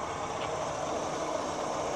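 A 1989 Ford Escort 1.6 gasoline car idling at a used-car fair, a steady low engine hum close by with no distinct start and no voices.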